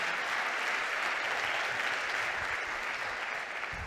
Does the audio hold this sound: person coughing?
no